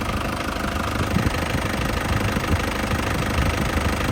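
A 2011 Isuzu Panther Grand Touring engine runs steadily at idle with a low, even rumble and a faint knocking texture, continuous throughout with no talking.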